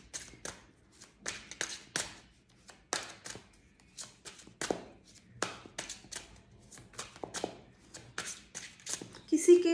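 Tarot cards being shuffled and cut by hand, a fast run of crisp riffling bursts and soft slaps repeating through the whole stretch, fairly close, with someone talking over it.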